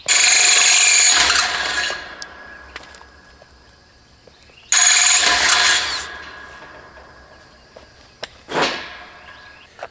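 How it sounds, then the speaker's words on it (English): A power drill bores through a wooden fence post during a dog kennel gate install, with two loud sustained bursts followed by quieter mechanical clicks and a short final spin-up, close to the microphone. "Just got to drill through the post."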